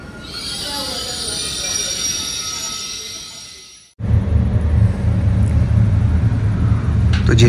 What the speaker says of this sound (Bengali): তো এখন রেনেন্সে যাওয়ার জন্য এই ট্রেনটাতে আমি উঠেছি